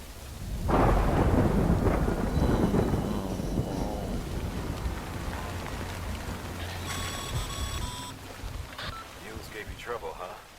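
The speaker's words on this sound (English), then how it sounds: "Good thing it was raining." A thunderstorm in the video game Death Stranding: a loud thunderclap rolls and rumbles away over steady rain and wind, with a brighter chiming sound briefly on top later.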